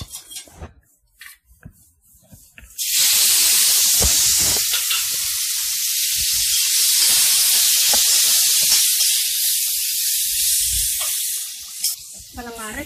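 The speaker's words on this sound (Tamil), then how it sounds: "அப்புறம் வெண்டைக்காயை இதில் போட்டுக்கலாம்." Sautéed okra hits a hot pan for Tamil mor kulambu, setting off a loud, steady sizzle that lasts about ten seconds after a quiet start of faint kitchen clatter, then eases off near the end.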